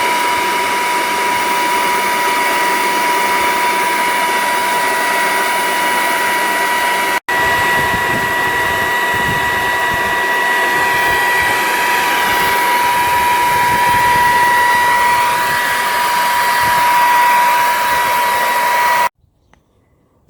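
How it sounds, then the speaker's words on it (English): A school science department's wind machine blows air at a rock, a loud steady whirring roar with a constant tonal motor whine, briefly interrupted once, running for about nineteen seconds before cutting off abruptly, with no talking. "Let's use that wind machine to try to weather that rock."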